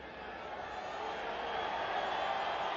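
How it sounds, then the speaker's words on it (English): Broad stadium crowd roar at a football match, Lionel Messi's Argentina against El Salvador, a steady wash of noise that swells gradually louder, with a commentator's voice faintly underneath. "when Messi has the ball, crowd sounds different, up a few decibels"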